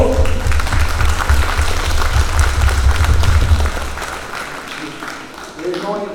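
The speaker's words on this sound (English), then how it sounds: "Let's give them a round of applause there, folks." An audience claps for the meal servers, steady applause filling the room for several seconds before tapering off, with voices underneath.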